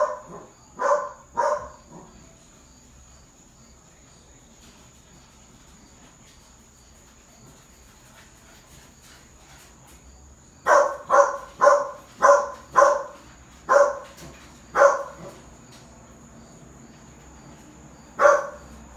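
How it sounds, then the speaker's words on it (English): A dog barks in short bursts, a few quick barks at the start, then a long pause before a run of about eight sharp barks and one final bark, moderately near, over a faint steady background hum. "I apologize for my dog barking."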